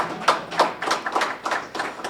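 A few people clapping at the CPAC Hungary political conference, irregular close hand claps with bursts every quarter to half second, moderately loud and without talk.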